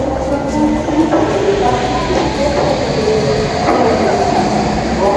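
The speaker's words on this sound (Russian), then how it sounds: "Метро Мадлен в Париже." A Paris metro train rumbles through Madeleine station with a continuous loud roar and rolling rail noise, while voices are faintly audible underneath.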